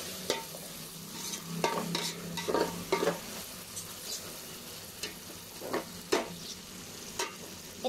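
Onion, garlic and ginger fry in a pan for a beef biryani, a low sizzle punctuated by frequent scraping strokes and taps of a spatula stirring at an irregular pace, close and fairly quiet.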